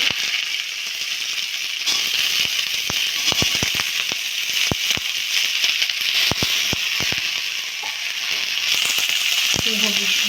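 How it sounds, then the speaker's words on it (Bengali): Cauliflower pieces frying in hot oil in a pan, a loud steady sizzle with frequent sharp pops and crackles scattered throughout. "ফুলকপিগুলো ভেজে নেবো।"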